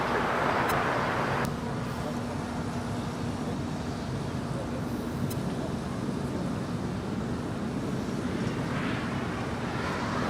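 An American Airlines jet takes off from runway 25 right at LAX. Its engine roar comes from a distance as a steady, broad rumble that holds throughout, with light traffic noise underneath.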